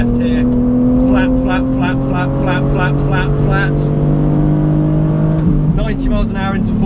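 A BMW Z4 at full throttle on a race track: a loud, steady engine drone climbs in pitch, then dips with a shift near the end, while someone talks over it throughout.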